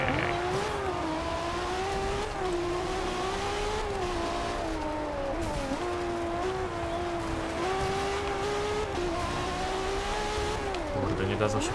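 A Ferrari LaFerrari engine racing in Forza Horizon 2, a steady high-pitched whine rising and dipping with gear changes through a tunnel, continuous and loud, while someone talks over it.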